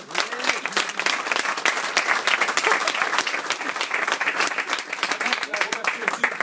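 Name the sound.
audience applause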